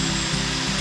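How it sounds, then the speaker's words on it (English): A power drill boring a hole through a carbon fibre interior panel to fit a cigarette lighter socket, a steady close whirring grind throughout with no talk. "Let's drill a hole for the cigarette lighter now."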